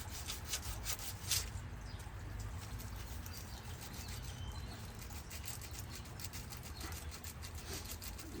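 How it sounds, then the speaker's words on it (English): Steady, faint scraping and rubbing as the glossy plastic surface of a new Hayward multiport pool valve is roughed up by hand before applying weld, continuing evenly with no talk. "Just want to dull the surface a little bit to give that Weld something to bond to."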